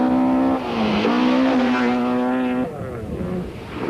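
A Ford rally car races past flat out on a road lined with sugarcane, its engine a loud, sustained roar that rises in pitch and then falls away as it goes by.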